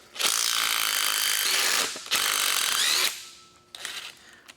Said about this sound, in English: Then we can take an 18mm socket and remove the power steering reservoir bracket and the reservoir all at once.